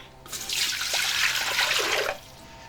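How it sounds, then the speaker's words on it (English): Water poured steadily into a cooking pot for beans and corn, a continuous close splashing gush lasting about two seconds before stopping abruptly, with no talk. "Pour some water."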